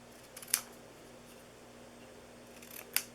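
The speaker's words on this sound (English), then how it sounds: "So let's cut it down here." Scissors cut paper for a Christmas elf gift box craft, giving two brief crisp snips spaced a couple of seconds apart over a low steady room hum.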